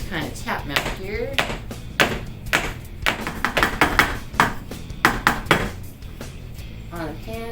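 Cake pans sprayed and filled with chocolate cake batter are tapped on a counter in a tiny kitchen, giving a series of sharp, close knocks and thuds in uneven bursts under faint background sounds.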